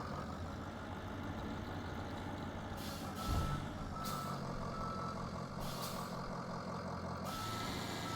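Snow plow truck driven in a snow plowing video game, engine rumbling steadily throughout with repeated reversing beeps and an air brake hiss, fairly close and without talk.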